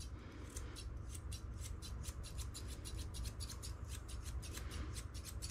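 Grooming scissors snip rapidly and rhythmically through a Shih Tzu's coat, a steady run of close, crisp metallic cuts over a constant low background hum.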